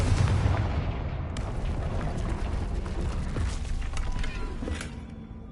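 The Confringo fire spell exploding in the video game Hogwarts Legacy, a moderately loud blast followed by a long crackling, rumbling tail of debris and scattered bangs, with no speech.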